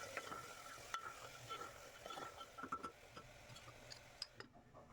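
Dal and rice fried in a pan are stirred with a utensil, giving soft scraping and irregular clinks over a low, constant sizzle, close and fairly quiet.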